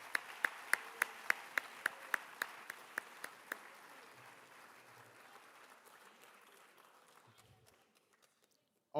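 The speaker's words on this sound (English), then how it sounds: "I would like to just ask for a huge round of applause for Dr. B and her support of athletics" Sustained applause from an audience at a high school athletic awards ceremony fills a hall, with a few loud, evenly spaced claps standing out near the front before everything fades to quiet.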